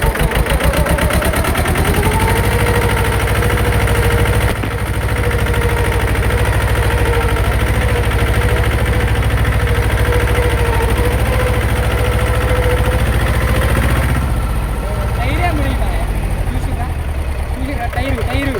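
A Mahindra mini tractor engine runs steadily and loud throughout while the tractor is driven through mud, a constant low throbbing drone with faint voices mixed underneath.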